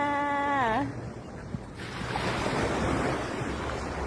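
Sea waves washing onto a Thai beach in the morning, a broad steady rushing surf with wind buffeting the microphone, preceded by a brief rising electronic tone.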